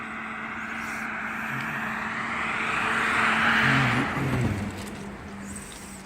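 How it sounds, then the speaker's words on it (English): A white car drives past beneath a short local train bridge, its engine and tire noise swelling as it nears and fading away as it passes over about six seconds. "It's my white car down there."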